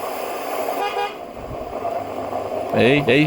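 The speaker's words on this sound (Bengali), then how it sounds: "আমি যদি একবার হর্ন বাজাই তুমি কিন্তু ভয় পেয়ে চিল্লাবে কিন্তু" A vehicle horn gives two loud, close honks in quick succession near the end, after a stretch of muffled background noise and what may be voices.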